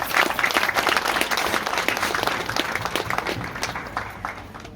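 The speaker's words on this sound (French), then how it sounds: "je vous demande une salve d'applaudissements" Applause at a hospital inauguration ceremony in Panzi, a dense, sustained clapping from a large crowd that fades slightly toward the end.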